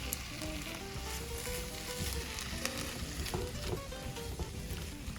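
Shrimp frying in a stir fry, a steady, even sizzle and crackle from the pan that holds for the whole stretch with no one talking.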